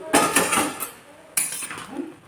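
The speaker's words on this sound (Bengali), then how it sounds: "এবার একটু ঢাকনাটা খুলে দেখি" A metal lid is lifted off a cooking pot of Malancha greens that have been boiling covered, giving a sharp clatter and scrape, then a second metallic clank about a second later, close by.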